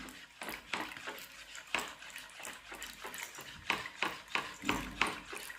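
Kuppaimeni herbal soap mixture being stirred continuously in a pot, with a steady series of wet scraping strokes and soft metallic clinks repeating about once a second, fairly quiet and with no talking.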